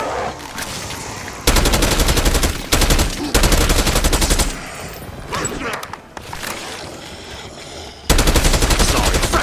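Automatic gunfire in Call of Duty Black Ops 6 zombies mode, loud bursts of rapid machine-gun shots in several long volleys separated by short quieter gaps, with a voice speaking in between.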